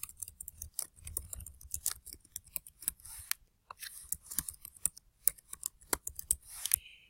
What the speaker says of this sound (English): Again, I'm going to type my career name here.